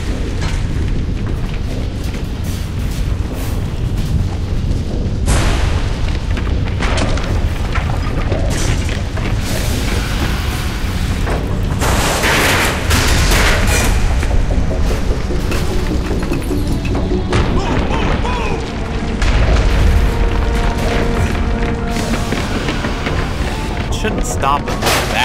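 A structure collapsing in the Mass Effect video game gives off heavy, repeated booms and crashing rumbles that stay loud and dense for the whole stretch, with a voice talking over parts of it.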